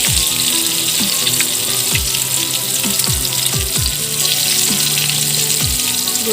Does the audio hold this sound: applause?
no